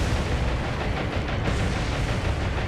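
In the naval combat game War on the Sea, a torpedo launch sounds as a dense, loud, roaring wash of noise that lasts throughout, with no speech over it.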